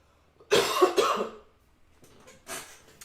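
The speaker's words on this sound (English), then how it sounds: "I'm going to cough" A person coughs loudly and close by, a harsh burst of several coughs, followed by a quieter cough a moment later.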